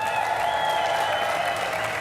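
Audience at an ESL R1 esports racing major cheering and applauding, a dense continuous wash of clapping and crowd noise with bright tonal hum layered over it, steady throughout.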